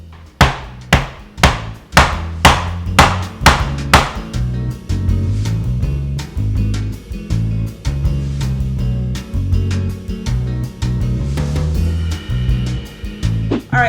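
Leftover corn cobs are chopped into quarters with about eight sharp, evenly spaced knife strikes on a board in the opening seconds, loud and close, followed by music playing underneath.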